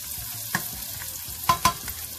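Onion frying with udon noodle ingredients in a pan gives a steady close sizzle, broken by a few sharp scrapes and clicks of stirring.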